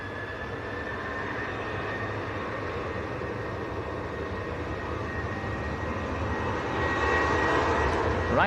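A Ryanair jet airliner departs Manchester Airport for Bratislava, its engine roar building gradually and growing louder toward the end as it charges past.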